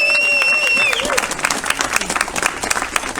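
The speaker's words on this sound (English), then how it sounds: "round of applause for Chris." Audience applause at a press conference fills the room with a crowd of hands clapping steadily, rising after a voice trails off at the start and continuing dense and close to the end.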